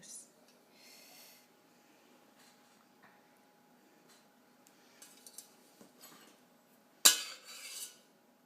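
Raw chocolate mixture scraped from a bowl with a utensil, giving soft intermittent scrapes and clinks, then a sharp metallic clink near the end, with light talk in places.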